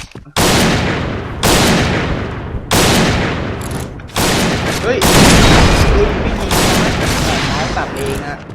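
Loud, heavy rifle shots from a Barrett M82A1 in the shooter game Point Blank, six booming blasts spaced about every one to one and a half seconds, each followed by a short ringing tail.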